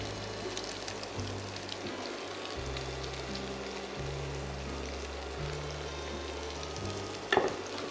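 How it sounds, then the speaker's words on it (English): French toast slices fry gently in a pan, a soft continuous sizzle with faint crackle that holds steady throughout, a low hum running underneath and one brief clink near the end. "We gently fry them to give a golden color."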